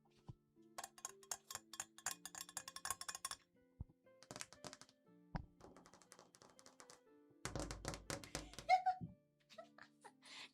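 Rapid bursts of fingernail and press-on nail tapping on a bathtub in a home bathroom, sharp clicky strikes in quick rhythmic runs with short pauses, close and moderately loud, with a brief denser scraping stretch near the end.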